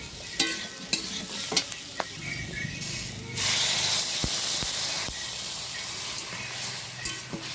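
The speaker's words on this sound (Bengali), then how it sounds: "তরকারি কষানো কমপ্লিট হয়েছে, এবার আমি জল ঢেলে দেবো।" Water is poured into a frying potato and bean curry, and a loud burst of hissing steam and sizzle swells up after several sharp utensil knocks against the pan, close and without speech.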